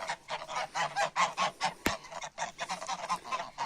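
Geese honk repeatedly in a rapid, rhythmic series of nasal calls, fairly close, with a single sharp click partway through.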